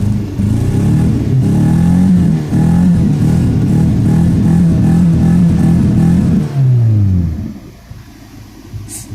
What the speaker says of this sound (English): I'll try to rev this thing up a little bit now that it has a little bit of oil maybe up in the upper cylinders